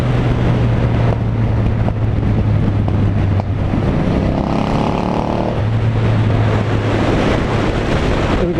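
A Triumph Thunderbird motorcycle on the move, its engine droning steadily beneath loud, constant wind buffeting the microphone, with a brief rise in engine pitch partway through.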